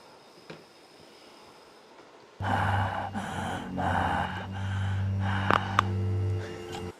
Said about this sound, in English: You would just listen to me breathe.